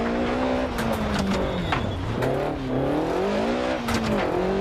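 Game car engine in a PS4 racing sim revving up and down in repeated swells during rev-matched downshifts, loud and continuous with a brief tire squeal, no talking.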